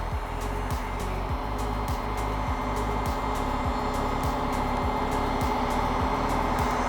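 A heat gun runs with a steady, close airy whir while it warms vinyl wrap film on a Tesla Cybertruck. The blowing hum holds even throughout, with faint periodic ticks underneath.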